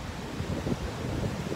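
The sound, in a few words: strong wind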